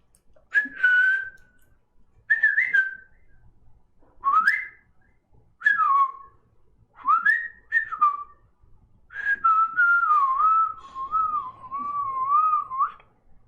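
A person whistles a series of short rising and falling phrases with pauses between them, ending in a longer warbling whistle; clear and close, no talking.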